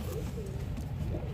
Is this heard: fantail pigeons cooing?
yes